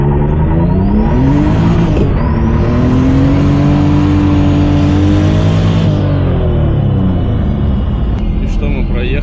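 A sports car pulls away hard in first gear during a test run, its engine revving loud and close with a rising, rumbling drone that climbs, holds and then drops away; no talk over it.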